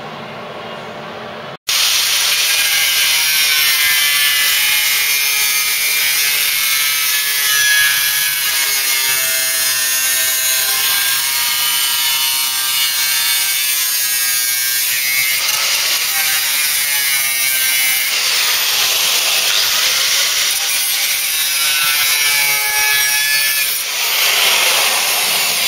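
Cutting a metal body panel on a Mk3 Ford Cortina during restoration, a loud continuous abrasive rasp that runs for over twenty seconds after a short quieter lead-in.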